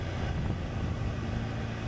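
A motorbike engine held at 4,600 revs in third gear at 75 km/h, heard as a steady low drone mixed with rushing wind noise on the microphone, constant and close throughout.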